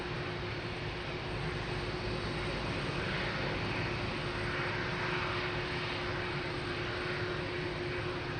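A Delta Airlines Boeing 767 at Lisbon Airport, departing for JFK, gives off a loud, steady jet engine roar that fills the air throughout, with no voices over it.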